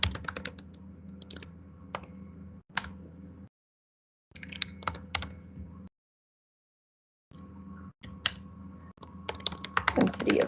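Keys clatter on a computer keyboard in bursts of quick, close-up tapping, broken by short spells of silence, with no talking over the clicks.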